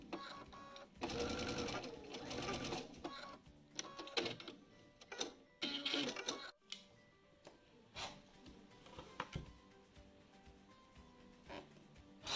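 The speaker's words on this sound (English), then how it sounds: "So you're just going to continue the process of stitching your strips around the centre square in a clockwise motion" Sewing machine stitching fabric strips around a centre square for a log cabin flower quilt block, running in bursts of varying length that stop and restart through the clip, close and fairly steady, with brief pauses between runs.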